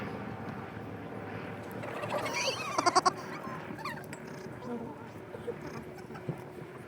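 Sheep bleating during a sheepdog herding demonstration at Ring of Kerry, a few faint bleats under a voice in an outdoor setting.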